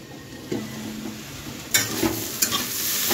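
Mushrooms frying in a pan, making a close, steady hiss with a few sharp stirring scrapes and clatters toward the end.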